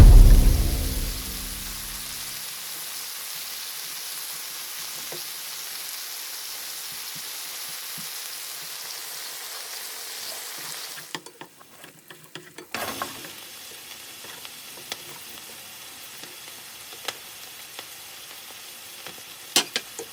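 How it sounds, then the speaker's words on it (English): Eggs fry in a pan with a steady sizzle that starts loud and quickly settles into a soft, continuous crackle. A brief quiet gap falls near the end, followed by scattered pops. "And fry the eggs. Flip the eggs to the other side."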